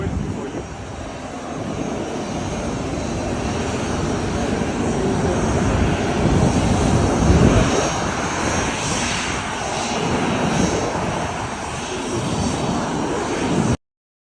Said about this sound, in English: My old plane is an air ambulance now.